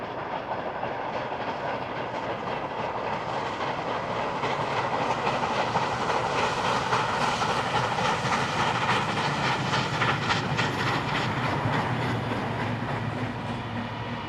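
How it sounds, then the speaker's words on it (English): Two locomotives pass Malden Curve near Picton, New South Wales, beside a cement works, giving a steady, close rumble with rhythmic clickety-clack of wheels and a faint hiss that holds for the whole stretch, with no voices. "The two locos are now seen at the Malden Curve, which is near Picton."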